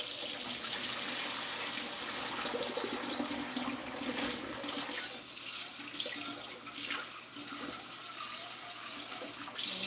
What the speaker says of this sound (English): we're going to drain these now. Remember, you're dealing with hot boiling water.